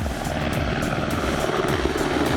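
A CH-149 Cormorant three-engine rescue helicopter runs close by, its loud turbine whine over a rhythmic rotor thump that stays steady throughout.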